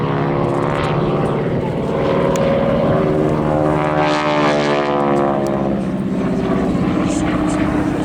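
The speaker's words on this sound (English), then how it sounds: "the noise of the aeroplane changes depending upon where you're standing in relation to the rotation of the propeller" Loud, droning Harvard aircraft engine, a 600 horsepower Pratt & Whitney R1340 Wasp, with a harsh, rasping propeller buzz that swells and shifts in pitch, heard up close and continuous throughout.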